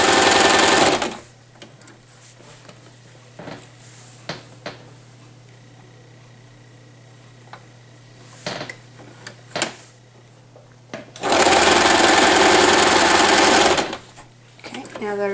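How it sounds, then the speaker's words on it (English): A sewing machine runs in two loud, steady bursts while double stitching the folded end of a fabric headband, with quiet clicks and a person talking in between. "Now we can begin our double stitch."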